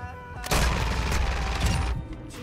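Sustained burst of Call of Duty gunfire, loud and close, rattling continuously for about a second and a half before cutting off into quieter scattered shots.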